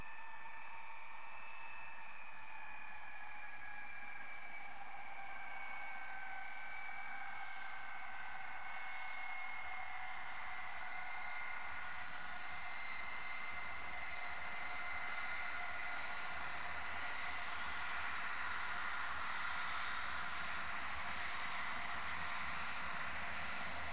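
An aircraft engine drones steadily through approach and landing, a loud continuous roar with a high whine that shifts slowly in pitch, heard alone with no voices.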